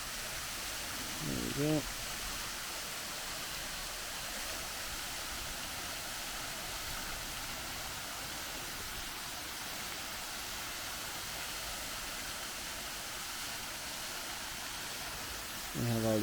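Powerscourt Waterfall in Wicklow pours as a steady, broad roar of rushing water throughout, with a person speaking briefly over it near the start and again at the end.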